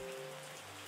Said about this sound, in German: Oh, es regnet noch mehr.